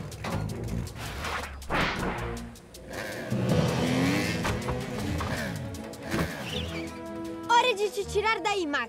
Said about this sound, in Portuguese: Acelerando!